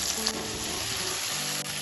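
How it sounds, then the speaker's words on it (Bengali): Boiled taro sizzles and crackles steadily in hot oil with softened onion and tomato, a close, continuous frying hiss with faint stirring and no talking. "ভালো করে কচুটা তেলের সাথে ভাজা করে দু থেকে তিন মিনিট"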